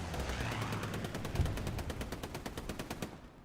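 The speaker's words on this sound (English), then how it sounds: "Strafing run comes in on that spawn wave" Aircraft strafing run in Hell Let Loose, a rapid, evenly spaced burst of heavy machine-gun fire rattling steadily for about three seconds, then cutting off abruptly.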